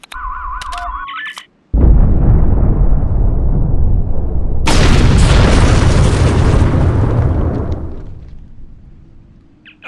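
A large explosion in the Star Trek Online TOS update goes off loud and close, its roar swelling again midway and then slowly rumbling away over several seconds, with synthetic interface tones beforehand.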